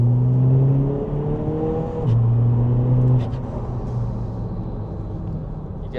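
342 bhp all-wheel-drive 2.0 TDI VW Scirocco with DSG gearbox accelerating, a droning engine note that climbs in pitch through a couple of gear changes, heard from inside the car with steady road rumble beneath.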